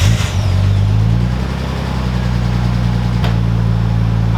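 A Nissan Skyline engine runs steadily at a loud, close idle with a low droning hum, a brief rise near the start and a short click partway through; no voices.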